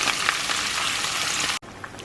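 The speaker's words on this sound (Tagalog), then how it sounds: "vegetable oil or kung anong oil yung prefer niyo. Tapos, iprito ko lang siya." Meat fries in vegetable oil in a pan, giving a loud, even crackling sizzle that holds steady, dips briefly, then carries on.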